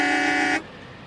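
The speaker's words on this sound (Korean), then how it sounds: "빌리 산체스는 자동차 경적을 몇 번 울렸으나" A car horn blares in one loud, steady honk lasting about half a second, then cuts off abruptly, leaving quiet background.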